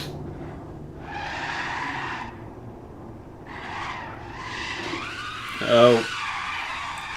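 A race car in a racing video game spins out, tires skidding with a broad, wavering squeal that rises and fades over several seconds; a person talks throughout and exclaims near the end.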